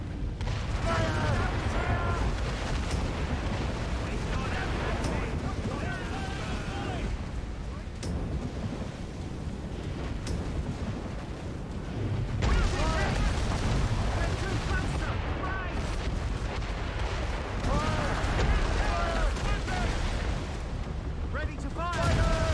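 Sailing-ship cannons firing in the video game Assassin's Creed Rogue, repeated heavy booms and blasts at sea over a rumbling background, with shouted voices between the volleys.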